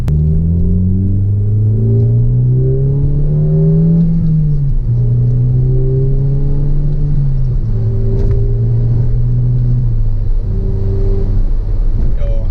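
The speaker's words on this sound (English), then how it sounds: "Really dig this exhaust. It's actually super nice." A 2006 Volkswagen GLI (MK5) engine drones with a deep, throaty exhaust note, rising in pitch through several revs then dropping back, steady and close.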